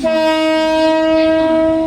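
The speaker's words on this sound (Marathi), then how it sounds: "आने वाली आगामी लोकल 10:29 की मुंबई छत्रपति शिवाजी महाराज टर्मिनस जाने वाली तेज लोकल है" A Mumbai fast local train at a station platform sounds a loud, sustained horn, a steady, close tone with rich harmonics that holds throughout, with no talking.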